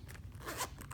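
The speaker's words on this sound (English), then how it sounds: "The zipper is nice and sturdy." Zipper on a Pokémon trading card case being pulled open, one quiet, continuous scratchy run lasting about a second.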